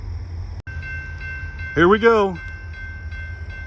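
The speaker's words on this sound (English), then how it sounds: "I can hear the train." A train rumbles in the distance with a steady, sustained horn-like tone across a railroad crossing scene, while a person briefly speaks midway.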